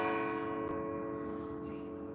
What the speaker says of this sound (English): Oh, the church bells are going off.